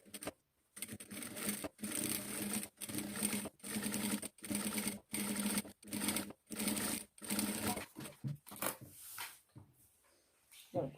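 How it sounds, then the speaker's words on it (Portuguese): A sewing machine stitches along the edge of a lace hem in a run of short, even bursts separated by brief pauses, close and clear, then slows into scattered stitches near the end. "Então, a gente vai passar uma costura bem na beiradinha"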